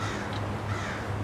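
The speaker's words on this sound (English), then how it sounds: "that was a little crow" A single crow caws once, distant and faint, over a steady outdoor hiss at a bushcraft campsite, captured on a binaural recorder.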